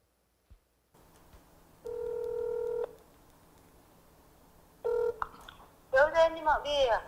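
Telephone keypad tones over a faint line hum: one long steady beep, a pause, then a short beep, followed by a voice speaking in Korean close by.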